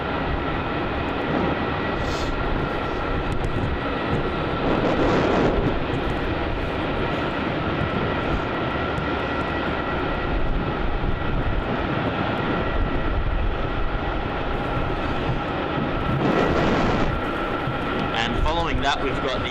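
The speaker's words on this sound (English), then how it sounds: "the Boeing 737-800 from Qantas, wearing its new Roo livery" Qantas Boeing 737-800 in the new Roo livery arriving on runway 16 at Melbourne Airport, a steady, fairly loud jet engine roar that swells and fades over the whole stretch, with a voice talking over it.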